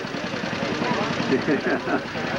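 A Gibson tractor engine runs at a show, a low, steady chugging idle with regular firing pulses, heard at moderate distance beneath people talking.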